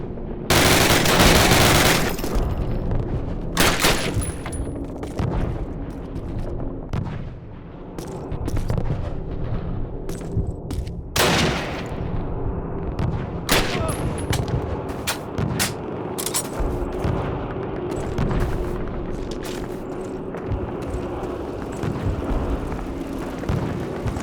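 Dense gunfire from the 2003 Call of Duty video game: sustained bursts of machine-gun fire mixed with sharp individual shots and heavy booms, loud and continuous, with no pause across the battle.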